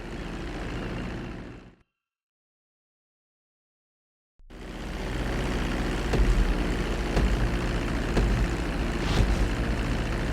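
Propeller plane engine in GTA V during a flight school landing approach, a steady droning hum that cuts out briefly, then returns louder and continuous with slight surges.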